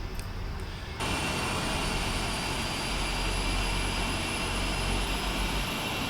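Cargolux Boeing 747-400 jet engines spooling up in the Prepar3D flight simulator, a steady roar that jumps abruptly louder after a second and then holds a continuous whining rumble.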